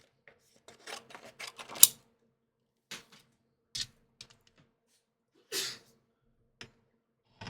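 A single sharp sneeze stands out among faint clicks, rustles and breaths in a quiet room, followed by a few scattered soft taps.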